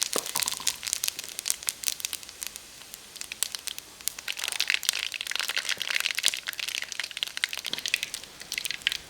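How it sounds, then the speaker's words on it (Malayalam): Mustard seeds with fenugreek, fennel and cumin spluttering in hot oil over low heat for a Kerala ozhichu curry, a dense steady crackle of sharp pops close by with no talk. "അപ്പോൾ കടുക് പൊട്ടി തീർന്നുകൊണ്ടേ നമുക്ക് ഇഞ്ചി ചേർത്ത് കൊടുക്കാം."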